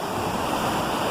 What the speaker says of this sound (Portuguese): Tem umas quedinhas d'água aqui